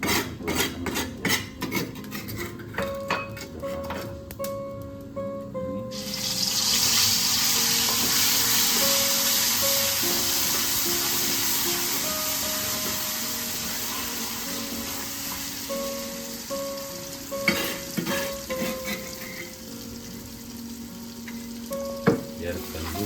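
Water spinach is tipped into hot oil in a pan for stir-frying with shrimp paste. A few clinks lead into a sudden loud, sustained sizzle that fades gradually, with scraping stirs and utensil taps near the end.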